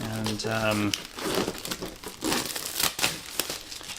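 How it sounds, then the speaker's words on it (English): Plastic packaging is pulled off with loud, close crinkling and crumpling that runs on with brief tearing noises, while a person speaks over it. "once you've got that opened up, you can just take off the plastic"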